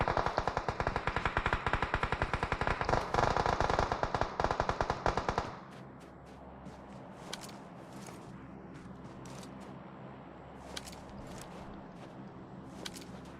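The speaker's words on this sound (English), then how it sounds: "bullets flying all over the place" A loud, rapid stream of automatic gunfire in a battle royale match at a Nigerian pro esports league event for about five seconds, then quieter, scattered single shots and distant reports.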